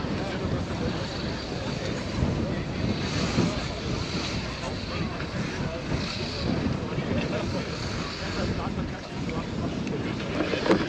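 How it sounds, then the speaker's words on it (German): Strong gusty wind buffets the microphone on a mountain launch site at Gaisberg, a continuous roaring rumble rising and falling in surges, loud and close throughout. "it is very breezy here. It's gusting well over 30 kilometers an hour"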